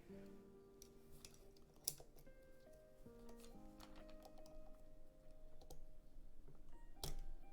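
Keycap or switch puller working a switch loose from a prototype Portico mechanical keyboard: scattered faint plastic clicks and ticks, one sharper snap near the middle and another near the end, close and quiet with soft background hum.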